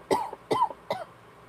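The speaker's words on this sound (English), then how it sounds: "Coughing for my enemies" Three sharp coughs in quick succession, close and fairly loud, each a short harsh burst, followed by quiet.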